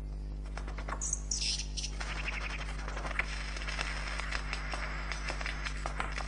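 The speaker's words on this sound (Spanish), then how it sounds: "Estas llamadas de clan han pasado de una generación de aves lira a otra." Lyrebird calls: sharp chirps near the start, then a run of quick clicking and ticking notes continues against a low steady hum, in a rainforest.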